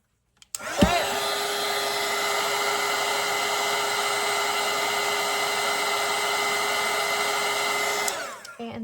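A hair dryer switches on and blows steadily over a watercolor painting, a loud, even whirring roar that holds for several seconds before cutting off, with no voices.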